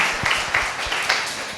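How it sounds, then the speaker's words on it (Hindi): A church congregation gives a sparse, short burst of clapping, loosely paced hand claps that stay fairly thin and unenthusiastic. "आपकी तालियों में बहुत कंजूसी थी"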